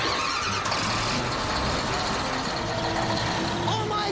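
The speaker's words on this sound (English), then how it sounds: "Gentlemen, start your engines!" Three bulldozers firing up their engines before demolishing a house, a loud, dense roar of heavy diesel motors rumbling together with shouts and crowd noise mixed in throughout.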